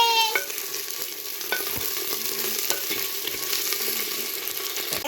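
Okra sizzling in a pan with dried and green chillies, stirred now and then, giving scattered utensil clicks and scrapes over a steady, moderately loud frying hiss.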